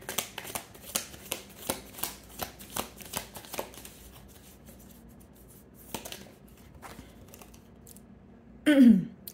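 A tarot card deck is shuffled and tapped in a string of crisp, evenly spaced riffles and card snaps near the listener, then quieter sparse handling, ending with a brief louder rustle.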